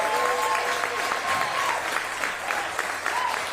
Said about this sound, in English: Can I get an applause on that?